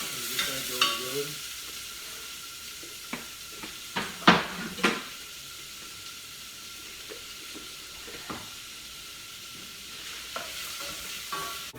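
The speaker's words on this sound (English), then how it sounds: "I got some hot olive oil going here." Diced yellow onion sizzles in hot olive oil in a pan, with a soft steady frying hiss broken by several sharp scrapes and clinks of a utensil stirring against the pan, close up and with no talk.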